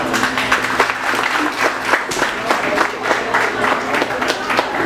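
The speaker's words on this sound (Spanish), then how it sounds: "Un aplauso para ellos," An audience at a staged show applauds as a young couple is called to the stage, giving steady, fairly close clapping with some crowd noise and faint voices underneath.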